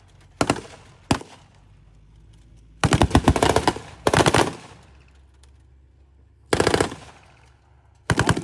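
A machine gun fires at a tank reenactment battle in a series of bursts, some short and some longer rattling strings, with brief pauses between them. Low rumbling sits in the background.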